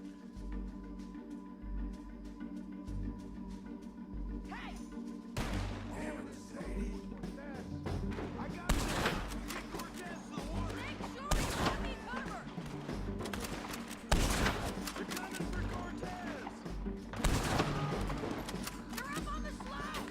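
Gunfire crackles through a shootout in Red Dead Redemption 2, with several loud bursts of shots standing out over a steady, busy game soundscape.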